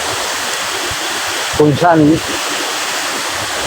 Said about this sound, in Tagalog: nandito tayo ulit sa ilog